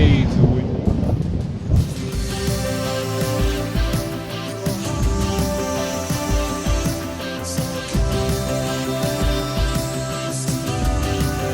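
Strong wind in Iceland buffets the microphone with heavy, rumbling low gusts, joined by a steady engine-like drone and a talking voice.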